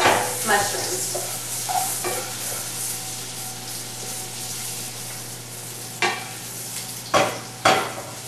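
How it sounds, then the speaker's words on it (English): Mushrooms sauté in oil in a pan for jägerschnitzel, a continuous close crackling sizzle broken by a few sharp utensil scrapes and clanks against the pan near the end. "So those mushrooms are nicely sauteed."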